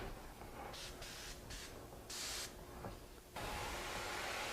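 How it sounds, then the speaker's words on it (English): An airbrush sprays paint onto tape in short hissing bursts of varying length, then settles into a longer continuous spray, soft and close with no voices. "I'm directing the spray at this part of this tape"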